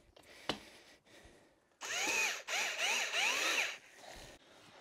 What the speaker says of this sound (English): one thing that really helps out with mixing concrete is one of these bucket mixers